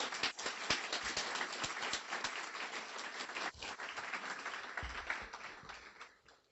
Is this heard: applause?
yes